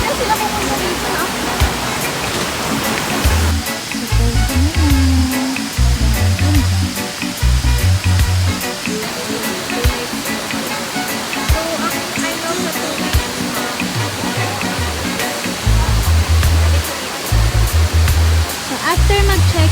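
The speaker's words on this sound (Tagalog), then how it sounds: "Ito na yung falls o." Anyap Falls waterfall roaring as a steady, loud broadband rush throughout, with voices talking over it at times.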